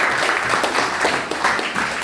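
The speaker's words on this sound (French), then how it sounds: "Applaudissons pour le frère Job" A congregation applauding at a French-language church sermon, a brief dense wash of many hands clapping, fairly loud and steady.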